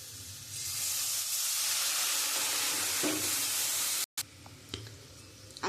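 Ground mustard paste thinned with water hits a hot pan of cooking fish curry, a loud, steady sizzle that cuts off briefly before faint bubbling and light stirring clicks return, with no talking.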